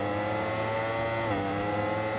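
Superbike engines in the racing game Ride 4 scream steadily at high revs, one engine's pitch dipping briefly as it shifts, a continuous mechanical howl with no voices.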